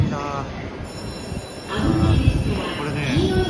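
A Sunrise sleeper train rumbles and clatters nearby, growing louder partway through, with a voice speaking faintly over it.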